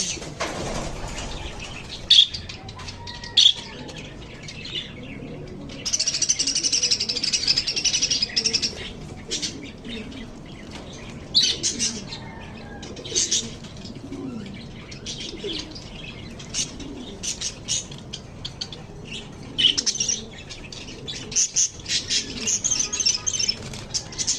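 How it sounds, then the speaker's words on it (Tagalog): Pet parakeets bathing give scattered sharp chirps and bursts of wing fluttering and splashing, intermittent and fairly close against a soft background hum. "Naliligo yung mga alaga kong parakeets."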